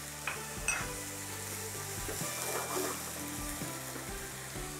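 Onion, garlic and tomato frying in a pan for Christmas bacalao, a faint steady sizzle with a low background hum and a couple of light clinks, distant and quiet, with no talking.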